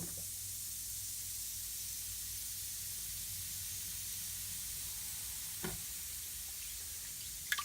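A soft, steady fizzing hiss of an active yeast mixture, like a carbonated liquid, continuous and close, with a couple of faint clicks near the end.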